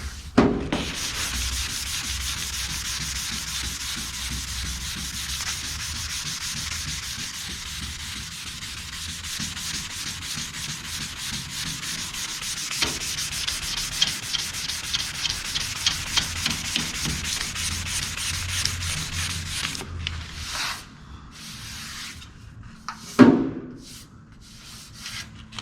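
Rough, continuous rasp of a surface being sanded by hand with long strokes, close and loud, steady for most of the time before turning into a few slower, separate passes near the end.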